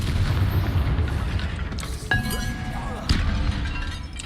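Confringo blasting spell in Hogwarts Legacy hits a barricade, two sharp cracking impacts with ringing debris standing out over steady game ambience.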